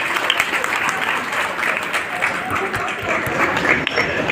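A school farewell audience bursts into sustained applause, dense continuous clapping from a large crowd filling the room at steady loudness, with faint voices underneath.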